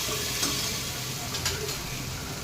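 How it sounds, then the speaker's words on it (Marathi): Ginger-garlic paste sizzles steadily in a hot pan while a spoon turns it, making a dense, continuous frying hiss with a couple of light stirring scrapes and no talking. "आलं लसणाची पेस्ट आता छान परतवली गेली"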